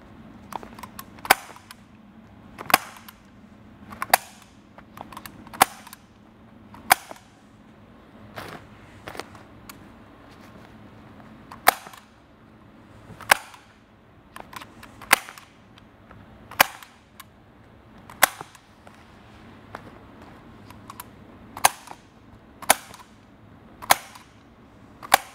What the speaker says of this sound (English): Take my stapler, and I put staples in 2 inches on center.